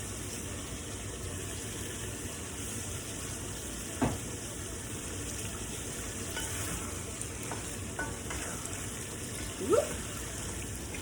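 Pork and ginger sizzle steadily as a Hmong stir-fry cooks in a pan, a constant dense crackle with a couple of brief utensil clacks.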